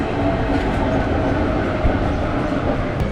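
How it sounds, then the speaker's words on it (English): Athens metro train running steadily, a continuous loud rumble of wheels and carriage noise filling the space, with faint rhythmic clatter and no talk. "The metro is working normally"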